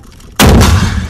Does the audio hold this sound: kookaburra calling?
no